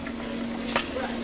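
Raw meat frying in a deep fryer, a steady bubbling sizzle close up with a brief louder crackle partway through, no talk.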